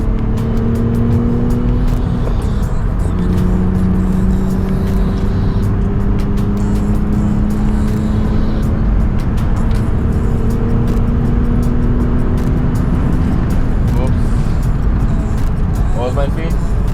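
A 23-year-old BMW Z3 cruises on the highway, its steady engine drone and shifting tones running continuously throughout with road noise, close and fairly loud.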